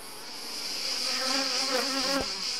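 Honey bees buzz in a steady, dense drone, close and continuous, with a brief click or tap near the end and no voices.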